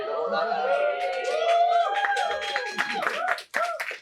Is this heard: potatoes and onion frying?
no